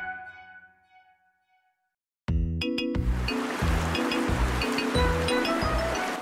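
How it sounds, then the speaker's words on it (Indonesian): River water rushing loudly and steadily during a fishing outing in a cartoon, with a rhythmic musical beat pulsing underneath after a quiet opening. "Doni dan Carlo sudah sampai di sungai"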